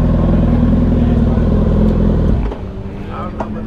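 Motorcycles rumble and rev loudly as bikers ride out of a parking lot after a bikes-and-breakfast gathering, then the engine noise drops away to a quieter idle and distant clatter.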